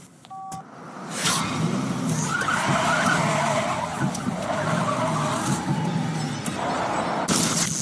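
A car skids with a sustained tire screech and then crashes, setting off an airbag; a short electronic beep comes first, then the loud skid runs for several seconds and ends in a sharp impact.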